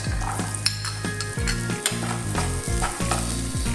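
Onions and garlic fry in a pan with a loud, continuous sizzle, broken by repeated scraping strokes of a stirring utensil, close up and without voices.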